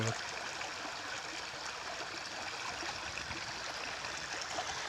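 Steady rushing of a stream flowing downhill, an even broadband wash of water with faint trickles, continuous and fairly close.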